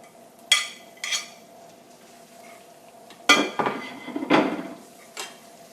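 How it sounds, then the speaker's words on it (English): Cheese melting in a pan for a jalapeno cheese spread while it is stirred: sporadic metallic clinks and scrapes of a utensil against the pan, close and sharp, over a faint steady background hum. "As it starts to melt, make sure you stir it constantly."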